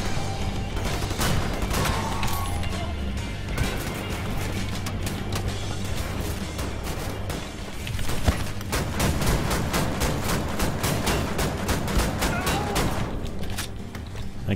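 Rapid, loud bursts of shotgun and other gunfire in Wolfenstein: The New Order, a near-continuous barrage of blasts and crashes with game music running underneath, with no talking.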